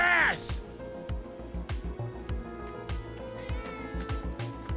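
A cat meows nearby, a high wavering cry at the start, while people talk over a steady series of thumping sounds.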